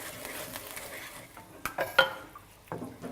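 Stirring pumpkin and tofu curry in a pot, with soft scraping and a few light clinks of a utensil against the pot, quiet and close, with no talk.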